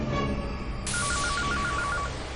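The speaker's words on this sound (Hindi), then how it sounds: "लक्ष्मी, फोन उठाओ।" A telephone rings in a Hindi TV drama, heard as a repeating electronic ring of short, evenly spaced beeps that begins about a second in. It is loud over a steady bed of background music, and no one speaks.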